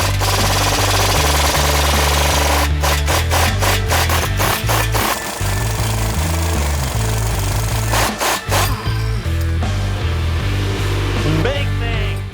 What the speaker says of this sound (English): Next up is to remove the lower strut bolt.